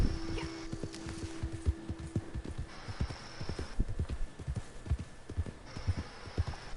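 Horse hooves clip-clop at a steady walking pace in a western video game, soft and moderately close, with a thin sustained tone drifting in and out over the footfalls.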